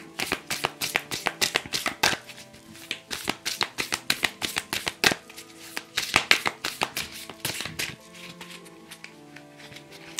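Oracle cards are shuffled by hand for a card reading, a close, crisp run of rapid riffling snaps and flutters in uneven bursts over about ten seconds.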